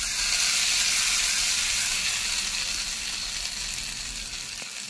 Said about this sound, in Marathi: आता मस्त चुरचुरीत फोडणी बसली आहे. हिंग, जिरा, मोहरी.